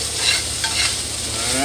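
Hamburger meat sizzles loudly in a pan on the stove while being stirred, a constant close crackle with brief scraping touches and no voices.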